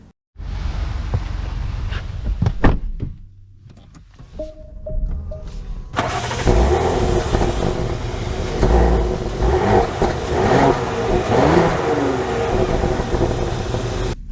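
A 2024 Porsche Cayenne Coupe engine cranks and fires up close with a low rumble, a few clicks and whirs follow, then the engine settles into a steady drive with rising revs.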